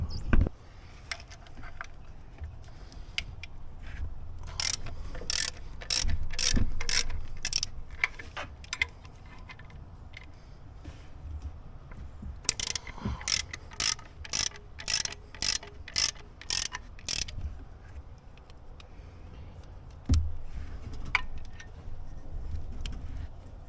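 A ratchet wrench works on 18 mm bolts on a Cadillac SRX engine, two bursts of rapid clicking ratchet strokes separated by quieter fumbling and metal handling, close and fairly faint.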